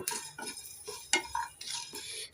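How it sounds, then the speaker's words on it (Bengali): A spoon stirs dried red chillies, green chillies and garlic cloves frying in a pan, making quiet, irregular metallic clinks and scrapes over a faint sizzle, with no talking. "এবার আমি মশলাগুলোকে নেড়ে চেড়ে দু মিনিট ভেজে নেব"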